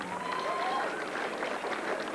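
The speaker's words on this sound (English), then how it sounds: "give him another big round of applause" A crowd at a heavyweight boxing match applauds and cheers for boxer Jason Reti with a dense, steady wash of clapping and crowd noise, heard from some distance in the arena.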